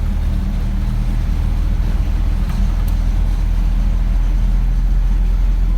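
A car engine drones loud and steady through a road driving lesson, a constant low rumble inside the cabin with no clear rise or pause.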